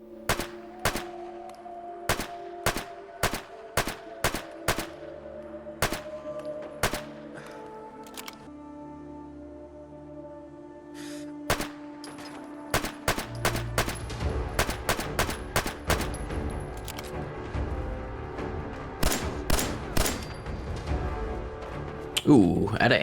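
Gunfire in the video game Fallout 4 during a fight with gunners on an overpass: a sharp run of single shots at a steady pace, building into denser bursts with rumbling effects and in-game music.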